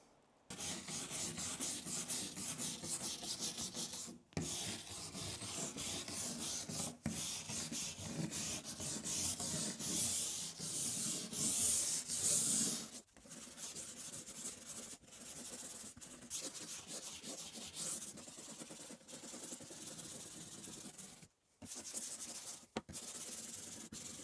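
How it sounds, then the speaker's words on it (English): A wire brush scrubs hard across wooden mosaic sign pieces to open up the grain, giving a continuous loud rasping scrape with a few brief pauses and no talk. "that wire brush is gonna get down in there and open up that grain again, create those grooves."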